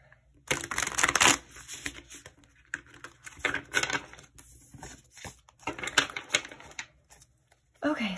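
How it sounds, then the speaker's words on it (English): Bursts of crisp riffling and rapid patter from a deck of cards being shuffled several times, with short pauses between each shuffle. "Let's go ahead and do a couple more shuffles."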